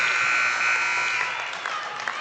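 The end-of-half buzzer sounds at a high school basketball game, Waynoka versus Timberlake, as a sustained steady tone lasting over a second, with crowd applause and cheering continuing underneath.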